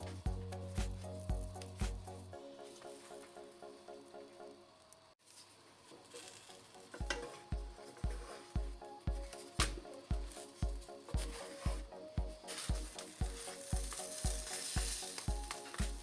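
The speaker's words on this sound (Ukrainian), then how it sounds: "Обсмажую кожен лаваш з двох боків до золотистої скоринки, по 2-3 хвилини з кожного боку на середньому вогні" Steady sizzling and crackling of cheese-filled lavash frying in a pan over medium heat, with rhythmic tapping or clicking over it, continuous and close.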